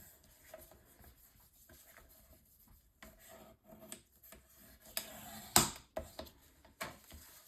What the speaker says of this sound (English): using my bone folder to burnish everything down